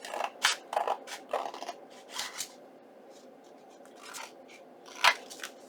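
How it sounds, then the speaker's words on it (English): Scissors trim paper for a Christmas junk journal card in a run of short, crisp snips and rustles, a few close bursts separated by quiet gaps, with no talking. "I can give it a trim. Just trimming this off."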